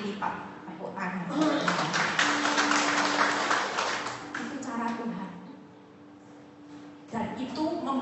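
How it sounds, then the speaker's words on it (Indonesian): Congregation applauding at a church service, a broad wash of clapping that swells and holds for several seconds, then fades under a voice before a brief second burst near the end. "Tepuk tangan."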